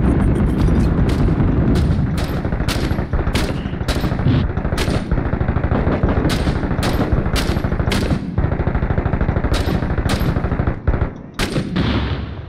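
Gunfire in the war game Six Days in Fallujah: loud, close bursts of rapid automatic shots, broken by short gaps and heavier booming blasts, continuing almost without pause.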